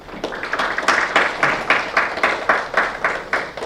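Applause at a policy forum on working conditions for disability sports instructors, greeting a speaker: a rhythmic round of clapping with regular sharp bursts, moderately loud and without talk.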